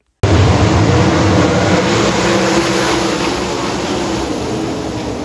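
A 410 sprint car engine runs loud and close, a dense steady roar kicking in abruptly and holding with little change before easing slightly toward the end, with no voices.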